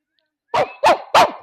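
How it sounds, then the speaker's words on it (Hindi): Three sharp, loud dog barks in quick succession, close by, following a short silence; the dogs are said to bark on a whistle signal. "मेरे इशारे पर भौंकना शुरू कर देते हैं"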